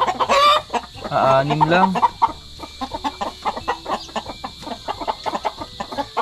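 Chicks and chickens cluck close by. High peeps and squawks come first, then a run of short, rhythmic clucks, with a brief voice speaking over them.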